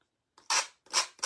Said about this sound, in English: I'm going to use my Gator sander